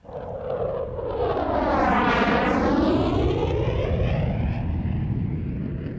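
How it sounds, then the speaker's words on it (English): B-52 bomber engines as an audiobook sound effect: a loud, roaring jet drone that swells and sweeps past, then holds steady, with no speech over it. "Our play begins aboard a crewed United States flying vehicle known as a B-52 bomber."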